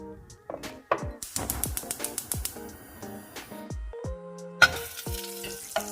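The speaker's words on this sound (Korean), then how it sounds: "냄비에 불을 올리고 버터를 녹여줍니다." Crackling sizzle of butter melting in a hot pot, with scattered clicks and clinks of a utensil against metal.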